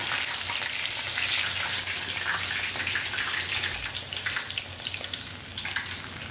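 Salted, seasoned chicken pieces fry in hot oil, giving a steady, dense sizzle and crackle close up, with no voices.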